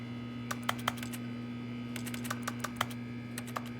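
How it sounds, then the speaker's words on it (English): Sharp key presses on a computer keyboard in The Stanley Parable, a quiet scattered run of clicks in small bursts over a steady low electrical hum, with no voices. "Why does the clicking sound like you're pressing on keys?"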